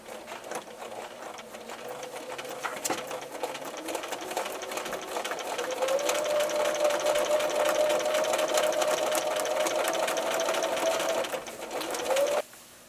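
A sewing machine machine-quilts a beginner's quilt, a fast continuous stitching whir that starts softer and grows louder and steadier before stopping abruptly near the end, close and alone without talk.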